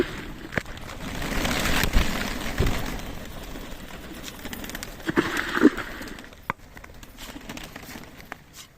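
Desi giribaj pigeons in a rainy loft give soft low cooing amid light fluttering, scratching and occasional knocks, fairly close with background rain-like hiss.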